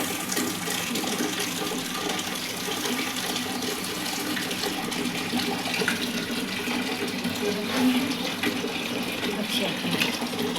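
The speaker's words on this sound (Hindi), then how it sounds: "मैं फ़िलहाल ना यहाँ पे भर रही हूँ पानी" Running water pours steadily into a container, a continuous rushing flow with faint voices and outdoor background noise mixed in.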